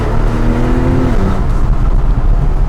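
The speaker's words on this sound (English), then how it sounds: "So just pulling out of here, get to see what the car feels like." A 2005 Porsche 911 pulls out and accelerates, its engine note rising steadily in pitch, loud and close with a continuous road roar and no talking.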